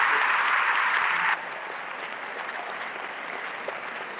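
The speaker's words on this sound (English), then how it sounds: "if you guys wouldn't mind giving my mom another round of applause" A student sobriety event audience claps for a guest speaker, a loud dense burst that abruptly drops to a quieter, thinner patter of clapping for the remainder.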